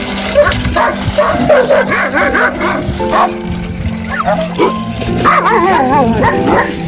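Several shelter dogs bark, yip and whimper close by, overlapping continuously and loudly throughout.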